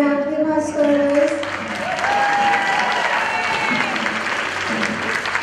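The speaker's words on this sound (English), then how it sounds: "But another round of applause for us." Audience applause after a stage performance at a harem-themed dance show, with clapping swelling under loud voices and cheers near the start, then settling into a softer steady patter.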